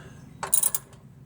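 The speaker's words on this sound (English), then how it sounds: "Now, tighten down your drain plug" A car's oil pan drain plug being tightened by hand, a short burst of quick metallic ratcheting clicks lasting about half a second, close up, no talking.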